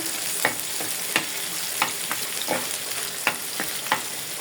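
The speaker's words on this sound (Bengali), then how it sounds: "তেল গরম হয়ে গেছে, দিয়ে দেবো শুকনো মরিচ, লাল করে ভাজে নেব।" Dried red chillies fry in hot oil for a dal tempering, with a continuous close sizzle punctuated by about eight sharp stirring scrapes of a spoon against the pan.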